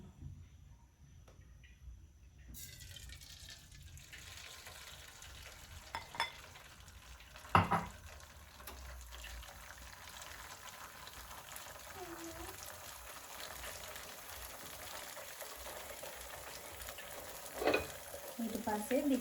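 Two beaten eggs poured into a pan on a low flame begin frying, giving a soft continuous sizzle with occasional clinks and stirring knocks from utensils, fairly quiet and close.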